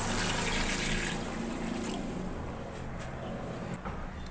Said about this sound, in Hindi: इसके अंदर हम ऐड कर देंगे अब पानी।